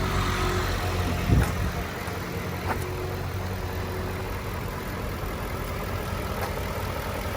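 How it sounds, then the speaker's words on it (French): A BMW Z8 engine idles steadily and close, a constant low rumble with a couple of faint clicks, no voices. "Ça c'est le moteur."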